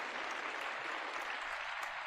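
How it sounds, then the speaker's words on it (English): A round of applause plays on a radio show, an even, continuous wash of clapping that holds at the same moderate level for about two seconds, with no talking over it. "I needed to give them a big round of applause"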